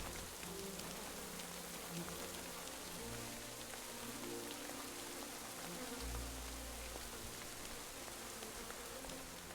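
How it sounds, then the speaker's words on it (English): Steady rain pattering down in a medieval Bohemian countryside setting in Kingdom Come: Deliverance II, a dense, even hiss of drops on surfaces holding constant throughout, with faint low background rumble and no talk. "And it's starting to rain on us?"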